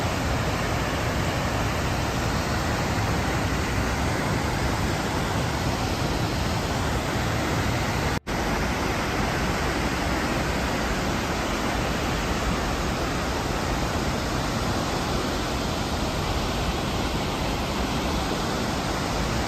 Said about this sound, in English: tried to get up here and get some of this waterfall footage before it starts to rain again